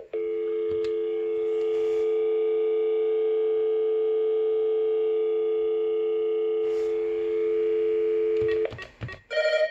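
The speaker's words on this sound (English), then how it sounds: "We'll show you the dial tone." A steady, loud dial tone on a Comdial DX-80 digital phone system hums continuously for several seconds, then cuts off into a few clicks and brief handset noises.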